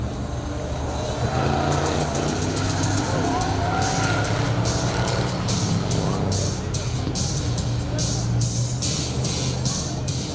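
A race car coming off the final turn at Saratoga Speedway, engine roar and tire noise over crowd ambience, with an announcer talking over it.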